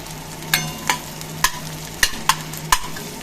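Ingredients for yetti (dried shrimp) chutney frying in hot oil, with a steady low sizzle broken by six sharp, evenly spaced scrapes and taps of a spoon stirring against the pan, close up and with no talking.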